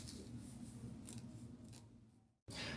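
Scissors cutting fabric for a pencil skirt, a close, quiet, steady rasping snip that runs for about two seconds, then a short silence before a louder burst of handling noise.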